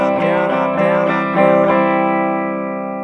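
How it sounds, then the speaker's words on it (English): An electric guitar is strummed with a pick in a few quick down and up strokes through an effects unit with distortion, then a chord rings on and slowly fades; no talking. "you just want the pick to kind of bounce across the strings"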